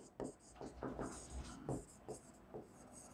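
Marker or chalk strokes on a classroom board during a Class 10 physics lesson on light, a series of short scratchy strokes at an uneven pace, close by, with a voice speaking over parts of them.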